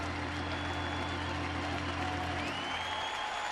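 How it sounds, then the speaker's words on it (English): San Francisco Giants fans applaud Carlos Beltran as he trots in from right field during a 2011 Rockies–Giants baseball game. Distant, steady crowd applause sits under a constant low broadcast hum. "Carlos Beltran getting a final applause from the Giants fans as he trots in from right field"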